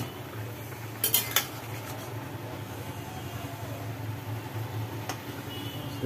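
A pot lid lifted off a pot of simmering fish and pointed gourd, a couple of sharp metallic clinks followed by quieter handling and a low steady background hum.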